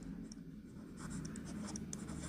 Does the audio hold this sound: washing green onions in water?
no